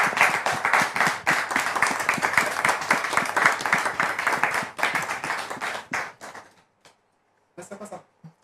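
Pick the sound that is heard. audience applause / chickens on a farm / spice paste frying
audience applause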